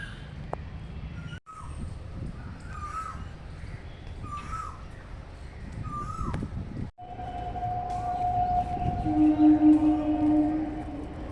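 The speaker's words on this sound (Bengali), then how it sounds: "কোকিল তো একদম তারস্বরে ডেকে চলেছে কোকিল।" A koel (Asian cuckoo) calls loudly in repeated rising phrases outdoors by a lake, followed by a sustained train horn drone building in the background.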